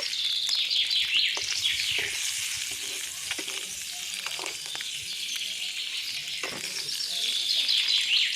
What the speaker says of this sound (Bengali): এখন সুন্দর করে আমি ডিমগুলো একটু লাল লাল করে ভাজা করে নেব